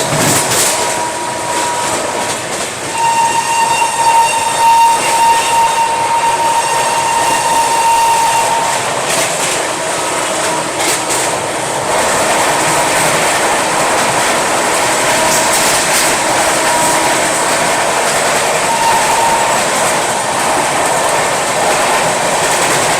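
Howrah-NJP Shatabdi Express running at speed, heard from inside its Vistadome coach: a loud, steady rumble and wheel clatter on the rails, with a sustained whine and faint tonal hums, and no talk throughout.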